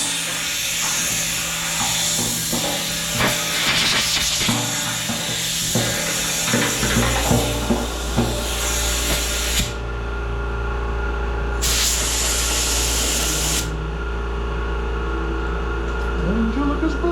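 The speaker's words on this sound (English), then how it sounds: "blow it out real good with the air hose" An air hose blows compressed air over the parts of a Power Pro by Wen 5500-watt generator in a loud continuous hiss, broken by short bursts and changes in pitch, close by.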